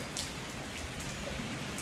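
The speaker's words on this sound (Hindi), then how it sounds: "ये देखो बारिश चालू हो गई है" Rain beginning to fall outdoors in hot summer weather, a dense steady patter of drops on surfaces, close and even throughout, with no talking.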